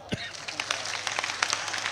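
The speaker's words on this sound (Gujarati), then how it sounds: "ના કહું ત્યાં સુધી તાળીઓ પડો" A crowd at a Thakor Sena political rally in Banaskantha, Gujarat, clapping in a rapid, scattered patter of hand claps, with talking mixed in.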